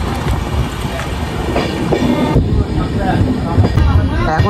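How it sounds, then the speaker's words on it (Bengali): The 18409 Jagannath Express, a new LHB coach train, heard from inside as it pulls into Santragachi station in the rain: a steady loud rolling rumble with rhythmic clickety-clack wheel beats and metallic squeals, with some faint talk in the background. "এখন আমাদের ট্রেন সাঁতরাগাছি স্টেশনে ঢুকছে।"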